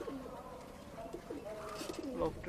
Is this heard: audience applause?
no